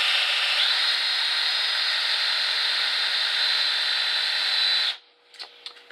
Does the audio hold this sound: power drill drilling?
yes